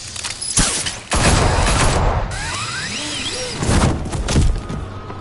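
Gunfire aimed at Batman in the Batman Telltale Series game, heard as loud bursts of rapid shots with thuds and mechanical clatter mixed into dense action sound effects, close and continuous.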